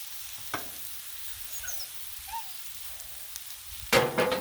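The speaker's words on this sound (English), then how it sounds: "Jalapenos on the griddle are so good," Jalapenos frying on a flat-top griddle give a soft, steady sizzling hiss, fairly quiet throughout, with a brief sharper burst of crackle near the end.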